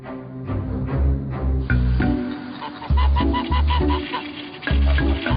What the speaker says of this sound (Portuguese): Os bandos de gansos eram encontrados em todos os vilarejos